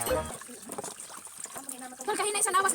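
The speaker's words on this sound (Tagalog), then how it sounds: "Inuhugasan na po niya ang balinghoy." Cassava roots being washed under a running tap, with water trickling and splashing unevenly while people talk over it.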